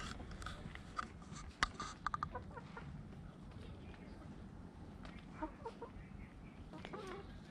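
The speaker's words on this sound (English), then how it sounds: "oh look, there's some chicken." Chickens cluck in a car-free Swiss mountain village, Gimmelwald, heard as a few faint, scattered clucks over soft outdoor ambience on a walking tour.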